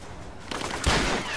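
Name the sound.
gunfire in Rise of the Tomb Raider video game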